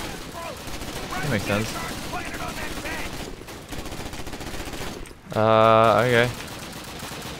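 Gunfire in the video game Call of Duty: United Offensive crackles through much of the clip alongside someone talking, followed near the end by a loud, steady tonal blast that briefly dominates.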